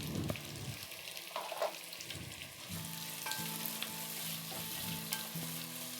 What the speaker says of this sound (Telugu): ఇప్పుడు ఇందులోకి ముందుగా తరిగి పెట్టుకున్న టొమాటో ముక్కలను యాడ్ చేసుకుందామండి.